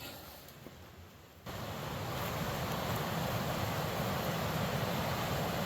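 Steady broadband rushing of flowing river water near the mouth of an 1880s placer-mine diversion tunnel, a quieter lull at first, then a louder continuous wash that holds evenly to the end.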